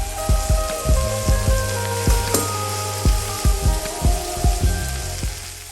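Shallots and crushed garlic sizzle steadily in melted Kerrygold butter, a constant bright crackle with repeated soft low taps from utensils throughout, no voices.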